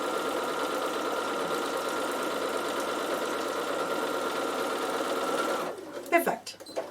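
A Bernina sewing machine stitches quilted fabric with a steady, even motor hum and rapid needle chatter running for several seconds, close by, before stopping and giving way to a few faint handling clicks and rustles.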